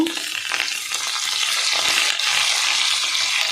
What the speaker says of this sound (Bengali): দিয়ে পটলগুলো একটু ভেজে নেব